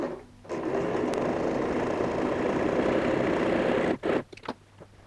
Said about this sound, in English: Keep your stitch length to the longest and just sew a straight stitch.